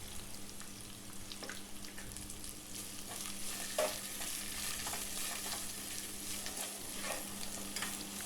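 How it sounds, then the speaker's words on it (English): Finely sliced onions, chopped green chilli and salt sautéing with browned garlic in a pan for onion rice, a quiet steady sizzle with occasional soft stirring scrapes and no voices. "add 2 finely sliced onions, 1 finely chopped green chilli and a little salt"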